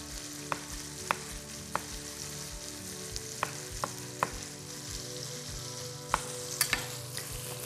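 Meat frying in a pan beside sliced mushrooms while cooking a casserole of potatoes, chicken breast and mushrooms, with a steady sizzle under repeated sharp clicks and scrapes of stirring, no talking.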